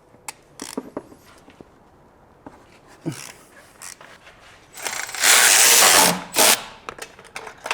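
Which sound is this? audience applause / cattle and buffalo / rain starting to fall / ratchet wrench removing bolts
ratchet wrench removing bolts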